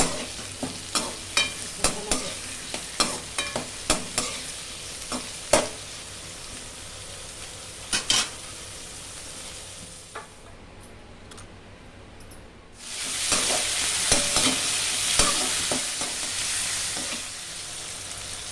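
Onions sautéing in a pan for vatha kuzhambu, a series of sharp spoon scrapes and taps over a low sizzle, a quiet pause, then a louder, denser frying hiss near the end.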